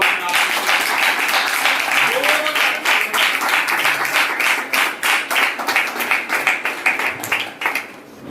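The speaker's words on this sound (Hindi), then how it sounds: "जोरदार ताली बजाओ" Congregation applauding loudly after a prayer at a Hindi-language church service, a dense wash of many hands clapping that turns into rhythmic claps toward the end, with voices calling out over it.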